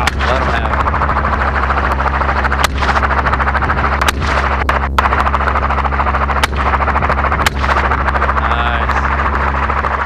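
Gunshots ring out at a wild hog from a helicopter during a hog hunt, several sharp cracks spaced irregularly over the loud, constant thrum of the rotor, with voices talking beneath.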